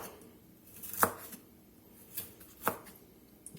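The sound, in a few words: knife chopping broccoli stems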